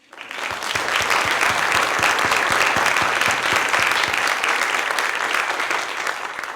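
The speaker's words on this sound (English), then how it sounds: "Now that deserves a round of applause." Audience applause at a literary lecture, a steady, full round of clapping from a crowd that rises quickly and holds evenly for several seconds before tapering slightly at the end.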